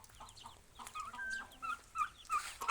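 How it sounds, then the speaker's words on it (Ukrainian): Chickens cluck softly in a farmyard, a few close, quiet clucks and short calls overlapping across a couple of seconds against faint background noise. "Наші курочки."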